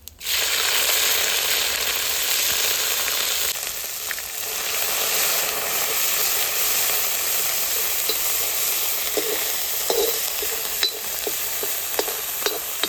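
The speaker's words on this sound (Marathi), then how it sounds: "तेलावर छान परतून घ्यायचं हे सर्व" Green chili, ginger and garlic sizzle steadily in hot oil with cumin and mustard seeds for black urad dal tempering, a continuous close frying hiss with occasional sharp pops and a few faint clinks, no talking.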